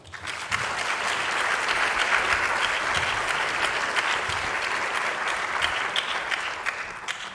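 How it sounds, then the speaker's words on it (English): An audience at a postdoc appreciation week event claps to welcome a speaker, producing dense, sustained applause that holds steady for several seconds before tapering slightly, with no voices standing out. "So, with applause and hearty cheers,"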